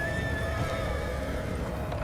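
A horse gives a clear, fairly close whinny that drops in pitch over about two seconds over a low rumbling background, with no talking.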